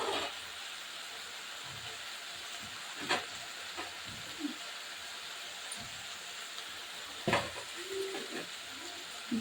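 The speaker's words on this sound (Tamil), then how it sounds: "இப்போ இதை நம்ம கலரி விட்டுக்கலாம்." Cooked noodles stirred in a frying pan over a low flame for veg noodles, a soft steady sizzle with a few light scraping clinks of the utensil, near and quiet, with no one talking.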